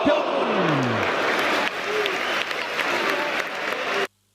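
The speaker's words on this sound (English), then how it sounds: "Yankee Stadium essentially sold out. Crowds in full voice." Football Manager 2018 video game stadium crowd at Yankee Stadium, a loud sustained roar of cheering and applause with whistles, continuous and then cut off abruptly near the end.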